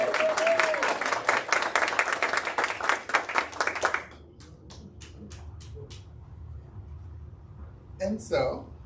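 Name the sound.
applause for a recognized staff member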